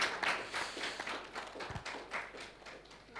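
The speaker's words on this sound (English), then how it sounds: "A round of applause for him." An audience at a mobile industry report launch gives a brief, fairly faint round of scattered clapping that fades over a few seconds, with a dull thump partway through.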